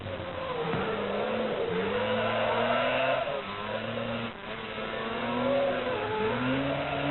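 Rally cars in the 1983 Alpine Rally race around a bitumen circuit, engines revving and rising repeatedly, with brief lifts between surges as they work through the tricky corners, heard close and continuous.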